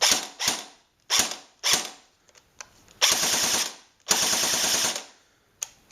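A gas airsoft rifle, a Dboys SCAR L, fires without BBs: several sharp single shots, then two short rapid bursts, each crack ringing briefly in a closed room.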